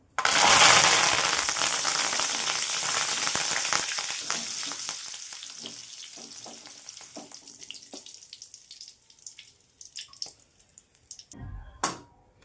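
Curry leaves crackle and sizzle loudly in hot oil for a crisp poha chivda, a dense burst of spitting that gradually thins out, with a few clinks of a utensil near the end.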